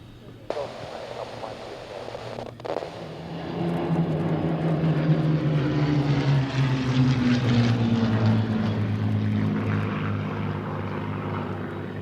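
Spitfire piston-engine fighters at an air show, a propeller drone swelling from faint to a loud, sustained roar with a shifting pitch as they pass overhead, a voice talking over the opening.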